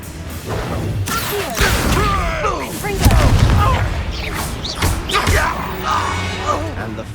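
A Confringo fire spell explodes in Hogwarts Legacy, booming blasts and whooshes layered under shouting voices in a busy, loud fight.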